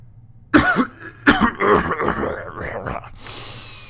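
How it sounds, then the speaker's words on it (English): Violent coughing from a scribe in Planescape Torment, a loud burst of rough hacking coughs and throat clearing in quick succession, near and alone, fading into ragged breathing. "the scribe begins coughing violently"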